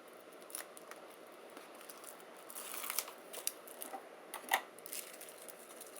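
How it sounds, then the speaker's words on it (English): Quiet, sporadic snips and crisp paper rustles from scissors cutting, a few sharper clicks standing out against near silence. "Grab my scissors."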